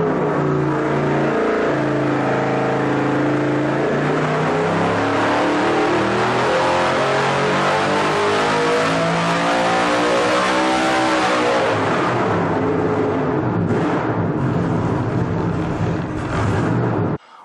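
A dyno-mounted car engine revs hard and continuously under load during an oil level test, its pitch climbing steadily then dropping off near the end, loud and close with no talking.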